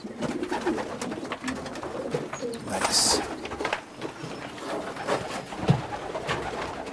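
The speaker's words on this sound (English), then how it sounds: "Should I show you some young birds here?" Racing pigeons coo softly in a loft in Utah, with low, throaty calls repeating through the background. Someone speaks briefly over the birds.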